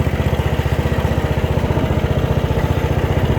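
A Bolens rear-engine riding lawnmower idles steadily close by, its small engine giving a continuous, even low chugging pulse with no voices over it.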